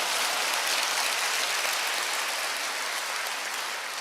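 Dense, steady wash of applause from a church congregation during an elder's testimony at a prayer meeting, sustained and even throughout with no voices over it.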